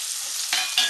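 Dried red chilies and whole cumin seeds sizzle in hot oil, a steady bright crackle with two louder bursts of spitting near the end, close and with no talking.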